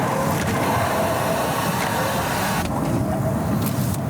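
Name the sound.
strange hissing noise from a Mercedes S-Class car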